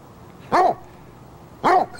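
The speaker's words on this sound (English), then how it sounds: "I think my lights are freaking out your dog." A dog in a holiday TV commercial barks twice, about a second apart. Each bark is short, sharp and fairly close, with quiet between them.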